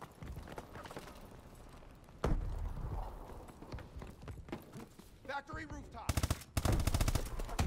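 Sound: SMG gunfire in video game Advanced Warfare

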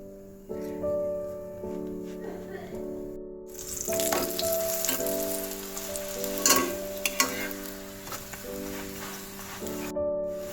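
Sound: fenugreek millet paratha frying in ghee

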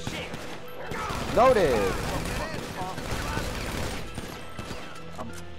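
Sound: SMG gunfire in a Yakuza video game

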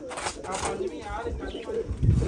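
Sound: pigeons cooing

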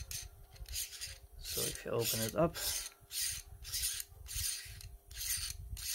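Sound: unscrewing a finely threaded part

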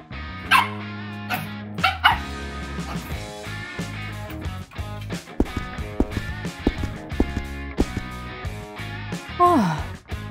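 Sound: dog barking

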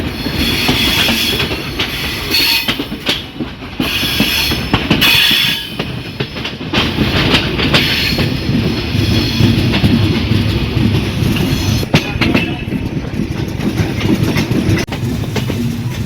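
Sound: Padma Express intercity train passing on rails

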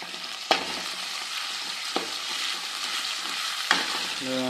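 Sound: green chillies sautéing in a pan

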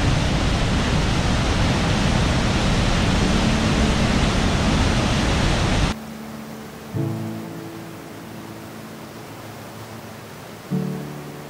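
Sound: Dillon Falls waterfall near Bend, Oregon

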